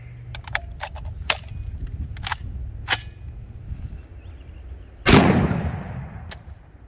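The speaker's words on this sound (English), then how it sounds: "let's just shut up and start shooting this Hornady 175 grain flex tip bullet, and let's see if we can destroy that block" A rifle chambered in 400 Legend fires a Hornady 175-grain bullet into a gel block outdoors, a single loud, sharp blast with a rolling tail, preceded by several faint clicks and handling taps.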